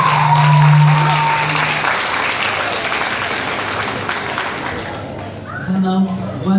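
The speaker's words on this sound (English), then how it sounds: "Please give her a big round of applause." Applause from a school audience at a 3rd-5th grade winter celebration fills the room as steady, dense clapping, with a sustained tone and voices mixed in near the start and end.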